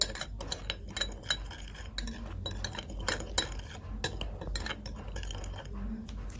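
Quick stirring of a thin, watery activated charcoal face mask mixture in a small dish, with rapid repeated clinks and scrapes of a utensil against the container, close and fairly quiet.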